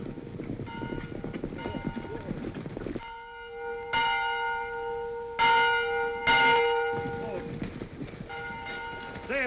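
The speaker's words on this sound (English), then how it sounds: "There's the bell." A bell rings out in an old Western setting, several loud, resonant strikes with long ringing tones that hang and overlap, following a stretch of muffled rumbling and clopping at the start.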